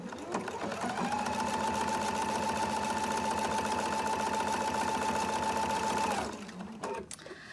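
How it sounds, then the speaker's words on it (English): A sewing machine fitted with a blind hem foot stitches a blind hem in one steady, loud, continuous run of rapid needle strokes with a humming motor tone, stopping abruptly near the end. "when I start sewing, I've set the needle so the needle will stop in the down position"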